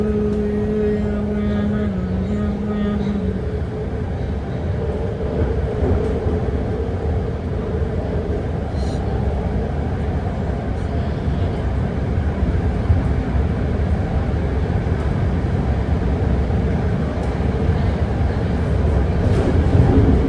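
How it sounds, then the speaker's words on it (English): A six-car Green Line BART train bound for Daly City and Berryessa rumbles past at close range, a loud, steady roar of wheels and motors with a brief tonal whine near the start and no voices. "This Green Line, Daly City, Berryessa bound BART train passing us."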